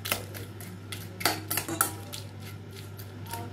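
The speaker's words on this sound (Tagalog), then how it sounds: "At i-mix natin siya. Paghaluin." Shrimp being mixed with salt in a bowl for shrimp gambas, with soft clinks and scraping of a utensil against the bowl in an irregular stirring rhythm, close and fairly quiet.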